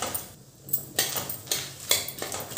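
A spatula scrapes and clatters against a pan while bhadang spice mix with garam masala and red chili powder is stirred, about five rhythmic strokes roughly every half second, close and fairly loud with no talking.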